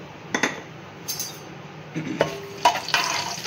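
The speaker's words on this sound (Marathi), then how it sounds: "चला आता आपण याच्यामध्ये पहिला तेजपत्ता टाकलेला आहे आणि आपण हे खडे मसाले टाकून घ्यायचे आहेत" Whole spices, including bay leaf, drop into a cooking pot for mutton biryani, giving several sharp clinks and rattles against metal, spaced irregularly over a low background hiss.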